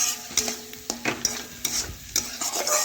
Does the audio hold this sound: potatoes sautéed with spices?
yes